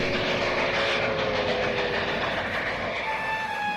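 A train runs along the rails with a loud, continuous rumble and rattling wheel noise, and a faint whistle-like tone sounds near the end.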